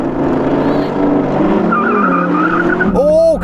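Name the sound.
Porsche Cayenne Turbo GT and Audi R8 drag race launch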